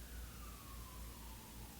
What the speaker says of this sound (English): I don't know if you can hear that siren.